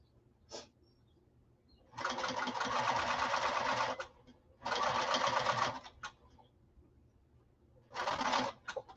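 A sewing machine stitches a slouch bag in three close bursts of fast, even needle rattle, each lasting one to two seconds, separated by quiet pauses with a faint click between.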